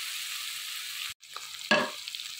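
Vegetables go into a frying pan with spinach. The steady sizzle breaks off, then flares back up with a burst of crackling and a clatter as they land, and it settles into frying again.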